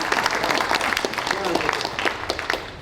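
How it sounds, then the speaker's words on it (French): Steady applause for a mayor at a cycling tour presentation, with dense clapping that stays even and fairly loud throughout, mixed with a faint voice. "Applaudissements nourris."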